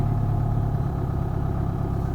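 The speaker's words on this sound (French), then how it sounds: "le bruit du moteur diminue" Steady mid-low engine drone from a car held at the clutch biting point during a hill start with the handbrake on, an even idling hum lasting a couple of seconds with no talk.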